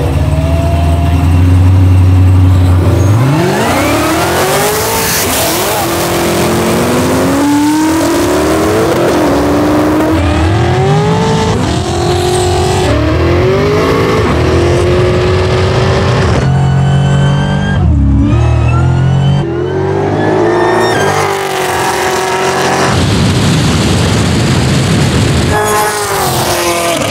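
Two drag cars, an 820 hp Cadillac CTS-V and a 1040 hp Camaro SS, launching and accelerating hard down the strip, with loud engines rising through repeated gear changes, close and sustained, and a few shouts.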